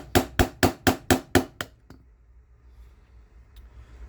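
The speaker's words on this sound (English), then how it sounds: "I might have to actually switch to a steel hammer." Six sharp, evenly spaced steel hammer strikes tapping parts out of a Stoeger STR-9 pistol frame, loud and close, followed by one fainter tap and near quiet.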